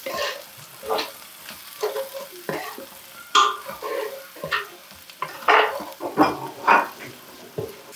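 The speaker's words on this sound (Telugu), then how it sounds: "తిప్పేసుకుందాం." A spoon stirs chili powder into a small-fish curry masala in a pan, making scraping, clattering strokes in irregular bursts over a soft sizzle.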